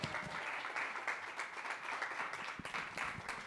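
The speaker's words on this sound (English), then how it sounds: "give her another big round of applause" A magic show audience gives a big round of applause, a dense, continuous crowd clapping with occasional louder individual claps standing out, steady throughout and without speech.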